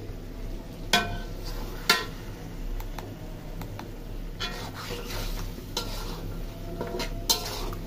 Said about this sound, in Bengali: মুরগিটা একটু লাড়া দেই,